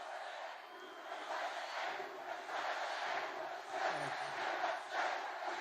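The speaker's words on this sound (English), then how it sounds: "This is a big crowd of beautiful people." A big crowd at a campaign rally in Henderson, Nevada cheers and shouts in loud, sustained waves, with one voice briefly speaking over the noise.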